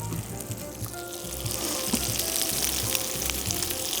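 Italian meatballs fry in oil in a pan with a continuous, dense sizzle that swells slightly as they are gently tossed, with soft low scraping and knocks underneath.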